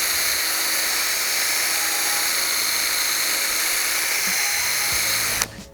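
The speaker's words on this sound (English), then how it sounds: "you need to drill a 7/8 to 1 inch hole in the back of the dust cover" Power drill boring a 7/8 inch hole in the plastic headlight dust cover of a 2014-2015 GMC Sierra, a steady high whine running close and loud before stopping abruptly with a clunk.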